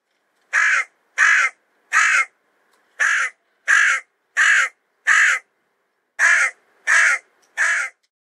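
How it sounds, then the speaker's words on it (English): A hooded crow gives ten harsh, rasping caws in three evenly spaced runs, loud and close against an otherwise silent background. "Hooded Crow, Craw, Hoodie,"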